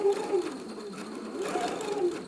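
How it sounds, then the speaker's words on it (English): Domestic sewing machine back stitching at the start and end of a seam while sewing a fly front zipper; a steady, close motor whir with fast needle chatter runs throughout. "we are going to back stitch at the beginning and at the end"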